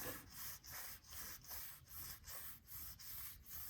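Sandpaper rubs gunk off the side of a guitar neck in quick back-and-forth strokes, about nine rhythmic scratchy passes, close-up and fairly quiet with no talking.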